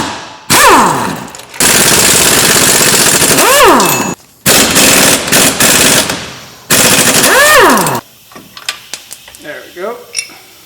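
Impact wrench with a socket and extension rattling off wheel hub bolts in loud, rapid bursts, three long runs separated by short pauses, followed by quieter clinks of tools and parts.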